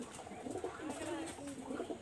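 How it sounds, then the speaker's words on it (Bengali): A pair of red-eyed pigeons coos softly and steadily close by, in a continuous low murmur with no clear talking. "আমি এখানে আরও একটা পেয়ার কবুতর দেখাচ্ছি"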